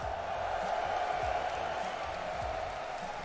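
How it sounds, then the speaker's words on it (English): Crowd roaring and cheering at a Rocket League esports arena in London, a steady distant wash of massed voices with no clear breaks across the short stretch. "You can hear from the roar of the crowd that you are the team here, the crowd favorite."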